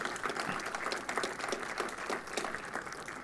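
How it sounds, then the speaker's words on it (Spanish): Audience applause at a panel event on independent candidacies in Mexico, a steady wash of many hands clapping together at moderate distance, fairly soft and sustained without talk over it. "nos damos un aplauso todos los nombrados y aquí presentes"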